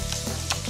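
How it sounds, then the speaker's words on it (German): Beef shank sizzles hard in a hot pan, a dense continuous frying crackle with a brief stirring scrape, close and steady with no talk. "So kräftig muss das brutzeln."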